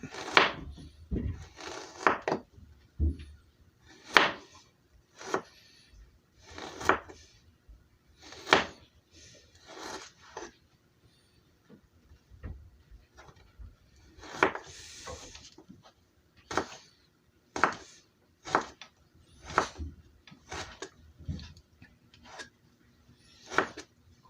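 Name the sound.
knife thinly slicing ginger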